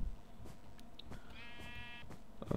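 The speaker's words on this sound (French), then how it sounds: "Oh oui, il y a un mouton." Sheep bleats in the Minecraft video game, a short wavering bleat standing out over background game ambience, with a few clicks before and after.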